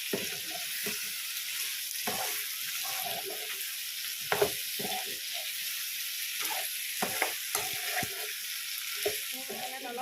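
Duck meat with potato and pumpkin frying in a pan for an Assamese duck curry, a steady close sizzle broken by repeated scraping and clacking stirring strokes throughout.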